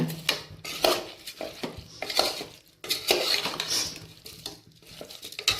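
Soaked rice tipped into a pot and stirred for pumpkin and peas rice, heard as close metallic clatters, scrapes and knocks of a utensil against the pot in uneven bursts, with a faint sizzle beneath.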